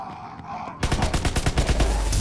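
Rapid burst of SG-42 automatic gunfire in Call of Duty WW2 Zombies, starting abruptly after a quiet moment and continuing as a fast, loud stream of close shots.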